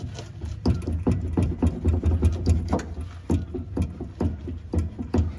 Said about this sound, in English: the noise I heard is this noise right here. I think it's just the splines